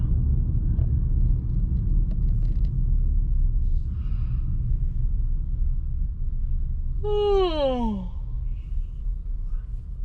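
Car driving on a highway toward Homer, Alaska, giving a steady low road rumble throughout, with a brief descending squeal or whistle near the end.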